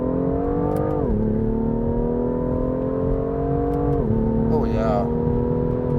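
A 2016 BMW M2 pulls hard through quick upshifts, its engine note climbing then dropping sharply at each shift, loud and close from inside the cabin, with a brief spoken remark over it.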